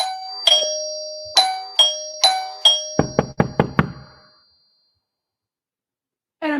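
A two-tone doorbell chimes ding-dong several times in a quick series, then a run of sharp knocks on a door follows, and after a pause a short burst of sound returns at the end.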